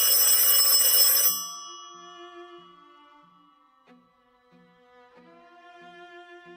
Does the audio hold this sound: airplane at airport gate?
no